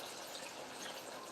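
Water is poured into a cooking pot while preparing a simple lunch, a quiet steady splashing hiss that continues without a break for a moment.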